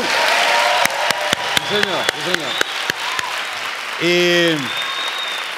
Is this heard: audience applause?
yes